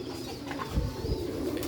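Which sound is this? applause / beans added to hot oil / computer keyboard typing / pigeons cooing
pigeons cooing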